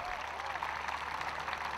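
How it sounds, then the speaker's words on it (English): A crowd applauds a showjumping rider at an equestrian event, with continuous clapping while an announcer's voice carries over it. "Give her a big round of applause."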